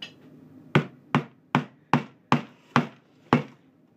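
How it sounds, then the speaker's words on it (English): Staples are hammered one-handed into a homemade seedling heat mat, giving seven sharp, evenly spaced taps that ring close and clear, after a quiet start. "One-handed hammering."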